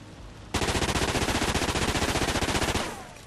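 Submachine gun fired from the hip in Call of Duty: Ghosts: after a brief lull, a loud, rapid, evenly paced burst runs for over two seconds, then cuts off with a short decaying tail.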